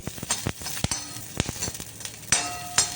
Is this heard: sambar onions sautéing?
yes